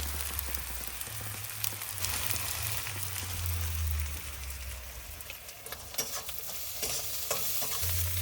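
Masala with ginger, salt and turmeric sautéing in a pan, a steady close sizzle with scraping stir strokes throughout, no voices.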